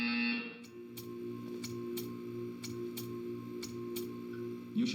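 Buzzer in the video game Portal 2 sounding as a steady electronic tone under low rhythmic ticking, with sharp repeated clicks about once per second, loud and close throughout.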